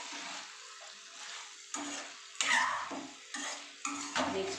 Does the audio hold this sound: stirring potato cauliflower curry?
yes